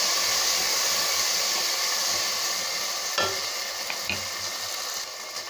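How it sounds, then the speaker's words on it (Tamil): Chopped onions, a small tomato and mint leaves sauté in a hot pan for mint rice, a steady faint sizzle and hiss throughout, with a few soft stirring scrapes late on and no voices. "இப்போ இதை நல்லா வதக்கி விடலாங்க."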